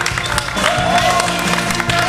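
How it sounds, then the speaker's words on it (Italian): Crowd at the Bandzilla 2012 band concert in Saronno applauds the bands that played, a steady dense wash of clapping and cheering that fills the clip at a fairly loud level. "Un applauso a questi gruppi che hanno suonato questa sera."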